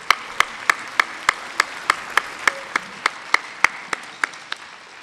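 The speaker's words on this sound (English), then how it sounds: "I'd like to give a great big round of applause for all the elders and the youth that came to participate" Slow, steady clapping at a community celebration honouring elders and youth, about fifteen evenly spaced sharp claps over a few seconds, fairly close, with no talking.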